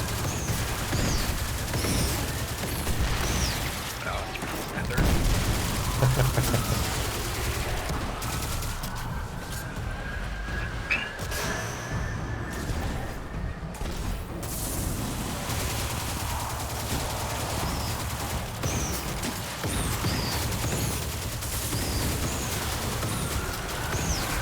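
Rapid bursts of submachine gun fire in a shooter video game, repeated in quick, steady cadence amid dense battle noise and other gunfire throughout.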